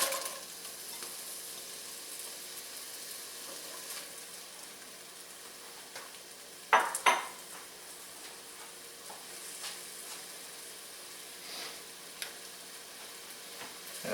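Slivered red onion and red pepper sizzle in about a tablespoon of canola oil for a kung pao chicken dish, a soft steady frying hiss with a couple of sharper stirring clatters midway.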